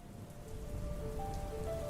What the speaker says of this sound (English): There was a complete downpour with several inches of rain accumulating very quickly.